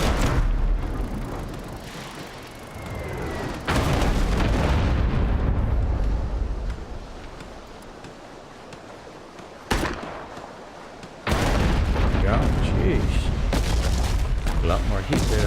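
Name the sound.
mortar rounds exploding in video game Abandon Ship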